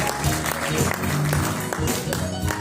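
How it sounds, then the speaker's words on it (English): An audience at a school award ceremony applauds the prize winners, with dense clapping running throughout and voices mixed in. "they both deserve a big round of applause"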